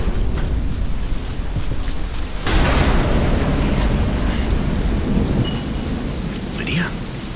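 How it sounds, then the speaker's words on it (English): A loud thunderstorm in the video game Deadlight: dense, steady rain pours throughout, and a heavy roll of thunder swells in about a third of the way through, then rumbles on under the downpour. "Storm."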